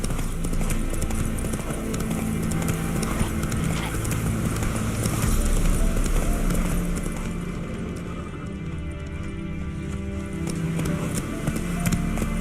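Roach, the horse in The Witcher 3, gallops with rapid, rhythmic hoofbeats that keep going steadily for the whole stretch, close and loud over a game soundscape with some voices.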